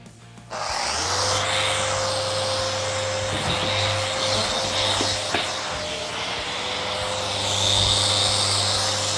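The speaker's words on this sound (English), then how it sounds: "The rotary sander I'm using has a ton of power. It works perfectly for shaping edges and removing a lot of material quickly." A Festool Rotex rotary sander shapes the edges of a walnut live-edge table, giving a steady, loud motor whine and abrasive roar that runs nearly unbroken throughout, with a few brief louder scrapes.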